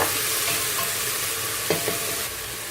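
Crushed garlic cloves hit hot oil with onion in a pan, giving a steady close sizzle with a few brief scrapes of stirring partway through, and the hiss eases slightly near the end.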